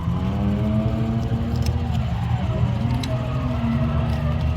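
A Toyota JZX100 drift car drives on a Utah track, its engine a loud, steady, close droning growl that holds without breaks for several seconds.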